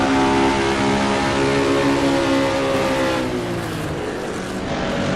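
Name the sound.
race car engine losing power at Darlington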